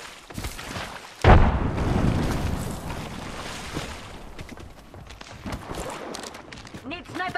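A frag grenade in Apex Legends goes off with a sudden loud boom and a rumbling tail that fades over several seconds. Shorter impacts and clatter follow, and a voice talks over part of it.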